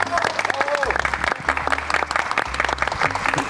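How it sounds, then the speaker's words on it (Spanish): A studio audience applauds an interview guest on a talk program, a burst of steady clapping up close, with a voice speaking over it. "Un aplauso."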